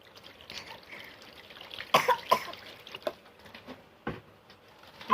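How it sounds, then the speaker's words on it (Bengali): Water poured into a cooking pot, a short trickling splash amid soft kitchen clatter, a few knocks and a throat-clearing cough nearby. "তো হালকা একটু পানি দিব"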